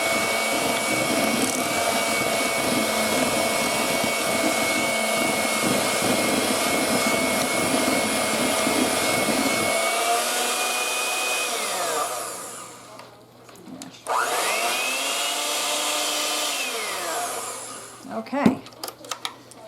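Electric mixer whirring steadily as vanilla is blended into frosting, a loud close motor drone that shifts pitch, slows and briefly stops, then restarts and winds down.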